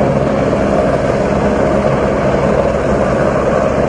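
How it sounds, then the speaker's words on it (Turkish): Helicopter flying along high-voltage power lines near a residential area while spraying liquid onto the wires, a loud, steady rotor and engine roar close by with no pauses. "Yerleşim yerine yaklaşan helikopterin yüksek gerilim hattı tellerine sıvı bir madde sıktığı görüldü."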